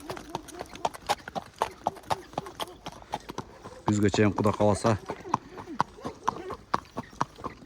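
Horses' hooves clip-clop in a steady walking rhythm close by, with someone talking over them partway through.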